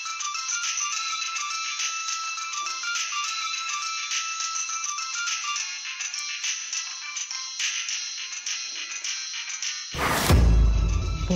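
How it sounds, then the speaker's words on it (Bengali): A phone ringtone rings steadily and loudly for about ten seconds as an incoming call arrives, alone with no talk, then cuts off into a brief sharp noise at the end. "বড় মাকে আবার কে ফোন করলো?"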